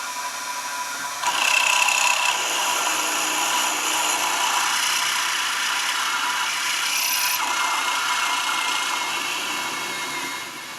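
Steady grinding, scraping noise of drilling on a lathe runs throughout, loud and close, with a harsh cutting texture and no voices.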